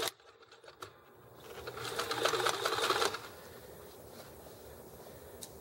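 A sewing machine stitches a drawstring bag with gray thread, running in one steady burst for about a second and a half midway, with faint handling clicks before it and quiet afterward.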